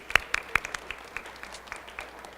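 A few people at a sports awards banquet clap in scattered, uneven bursts, strongest at the start and thinning into sparse, fading claps.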